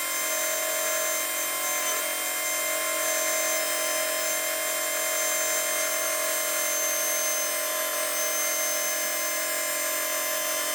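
A small electric motor in a Super 7 model car runs at high speed to seat its brushes, giving a steady, loud, high-pitched whine with no talk.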